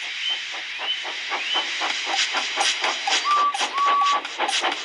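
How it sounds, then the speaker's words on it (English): Edward the steam engine puffing away, a steady rhythm of soft hissing steam chuffs repeating close by, with a couple of short tonal squeals or whistles near the end. "So they lit his fire, made lots of steam, and Edward puffed away."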